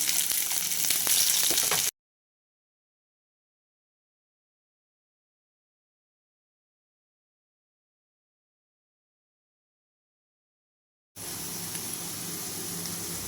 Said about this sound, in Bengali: তেল আমার গরম হয়ে গেছে এরপর আমি এখানে একে একে সবজিগুলো ভেজে নেব দিয়ে দিলাম কুচিয়ে রাখা পেঁয়াজ